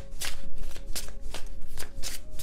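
A deck of tarot cards being shuffled close by, with repeated riffling bursts and soft card-on-card slaps in a steady, busy rhythm, and no talk over it.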